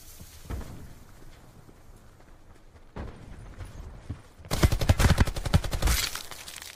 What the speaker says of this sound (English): Different team shooting me in the back right now